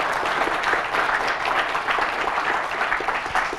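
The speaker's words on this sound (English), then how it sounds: "You now applaud." A conference audience at a talk on Arduino and C++ escape-room horror builds applauds in a steady, dense wash of clapping that stays even and fairly loud for the whole stretch.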